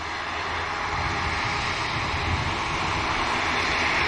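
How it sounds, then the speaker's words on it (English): A Ryanair jet climbing out after takeoff from Manchester Airport, heard as a steady, moderate engine roar that swells slightly toward the end, with no voices over it. "The Ryanair continuing the climb out as well."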